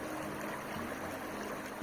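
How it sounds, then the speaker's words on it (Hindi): Mountain river water flows steadily near Manali, a continuous broadband rush that stays even throughout with no voices. "यहाँ पर बैठने के बाद आपको सिर्फ पानी की आवाज़ आती है"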